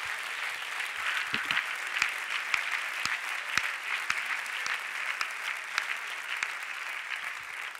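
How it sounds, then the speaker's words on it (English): A church congregation claps hands together during a sermon, a continuous crowd of clapping with sharper individual claps standing out, moderately distant and without speech over it. "Clap your hands and rejoice in that simple understanding,"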